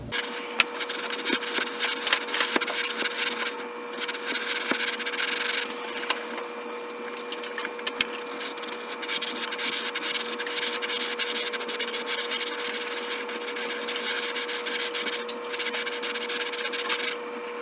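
A lapping bar rubbed back and forth inside scope rings gives a continuous close metallic scraping with small ticks, steady throughout and heard alone.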